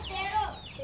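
A hen clucks in a brief, nasal burst of squawky calls, fairly close, over steady background noise, during a lively informal football game.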